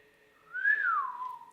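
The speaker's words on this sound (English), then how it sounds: "Were you just whistling at us?" A single short whistled note rises then glides downward, clear and fairly near against a quiet background, heard at night inside the Villisca axe murder house.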